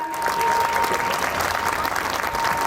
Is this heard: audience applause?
yes